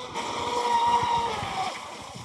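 ProBoat Blackjack 24 brushless RC catamaran accelerates across water, a high steady electric motor whine rising and holding over faint splashing and wind, moderately close.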